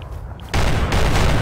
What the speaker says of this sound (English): Gunshots ahoy.